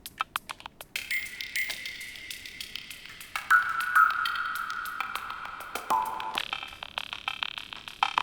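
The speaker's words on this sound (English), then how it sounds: "this is just drums from the Digitak, and we're just gonna play with some of these effects just on these drums" Sharp electronic drum hits from an Elektron Digitakt drum machine, repeating in a quick pattern, smeared by echo and delay effects, including echo freezes, that ring out into sustained metallic tones.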